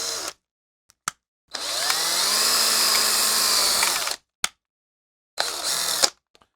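A small drill whines loudly while drilling out a rivet on an Evel Knievel toy stunt cycle, with one long sustained burst and a shorter one, separated by silence and brief clicks.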